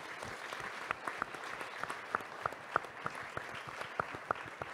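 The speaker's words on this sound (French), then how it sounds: "Je voudrais qu'on l'applaudisse, s'il vous plaît," Audience applause for Blic at an event on sea rescue survivors, a sustained bed of clapping with distinct individual hand claps popping out near and crisp throughout.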